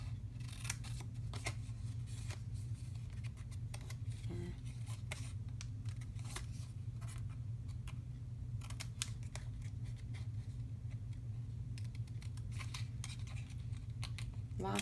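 Scissors cutting a paper shape out by hand for a shaker card: a series of close, crisp snips and paper scrapes in irregular bursts over a steady low room hum, with no talk.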